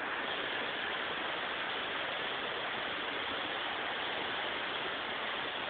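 A waterfall pours over rocks in a steady, dense rush of water, continuous and even throughout, close and fairly loud with no voices.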